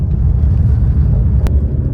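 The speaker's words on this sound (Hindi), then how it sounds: "अभी देखते आओ पवन भाई की ड्रिफ्ट देखो आप।" Mercedes-AMG 45 drifting at high speed, a loud, low, continuous engine rumble with road roar close by, with a brief sharp click near the end.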